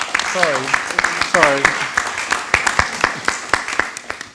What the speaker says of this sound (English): did I get another clap?